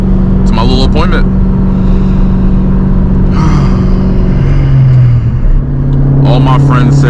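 A 500 hp 2003 Mustang Cobra drones steadily from inside the cabin while driving, with a low rumble and shifting engine tone. Someone talks over it throughout.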